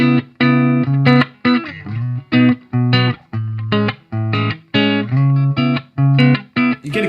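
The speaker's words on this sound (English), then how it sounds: "And next tone was based on a Fender Delux." An electric guitar played through a NUX Amp Force simulator on its Fender Deluxe amp model, with a loud, slightly driven tone in short chopped chord stabs and riffs, separated by brief gaps of silence.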